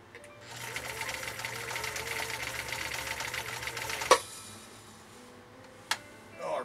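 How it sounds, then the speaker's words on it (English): A Brother sewing machine runs steadily through a zigzag stitch, its fast mechanical whir and rhythmic needle ticking close and continuous, then stopping with a couple of sharp clunks. "here goes our first stitch, which is going to be a simple zigzag"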